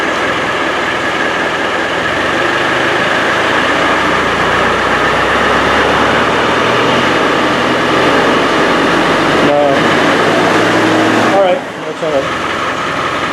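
A loud Land Rover 300Tdi turbo diesel engine revs steadily with a dense mechanical roar, briefly cutting out near the end, while voices speak faintly beneath it.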